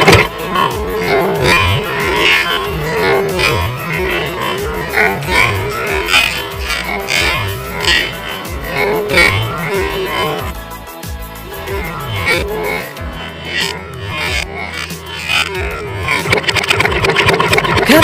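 A diesel engine is cranked and then runs, a loud close clatter that varies in pitch, with a few vocal grunts over it.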